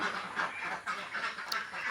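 Large farm ducks quack in a steady, mid-level chorus of overlapping calls, raised for fast egg production, with no clear gaps across the stretch.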